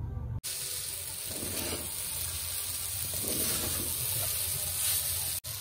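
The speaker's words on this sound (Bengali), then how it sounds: "গাজর বাঁধাকপি সব কিছু ভেজে নিয়েছি" Carrot, cabbage and other vegetables frying in a pan for chow mein, a steady close sizzle with soft hissing and faint stirring, no talk.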